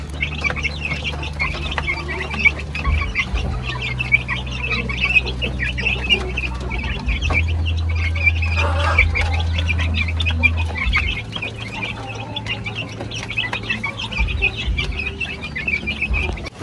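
Black Australorp, heritage and Dekalb Brown chickens cluck and chatter together in a coop while feeding, a busy overlapping flock with a steady low hum underneath.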